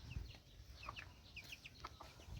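Desi village hens cluck softly in short, scattered calls, faint and somewhat distant over a low background rumble, with no talking.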